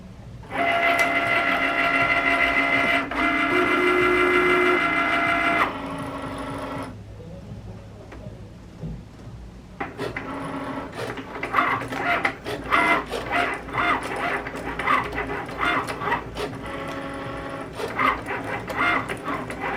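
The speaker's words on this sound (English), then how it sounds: "it has cut every piece of the vinyl" A Cricut cutting machine slices iron-on vinyl on a loaded mat, giving a loud steady mechanical whir with tonal hums for several seconds. A pause follows, then busier clicking and motor movements return at a similar level with no talk.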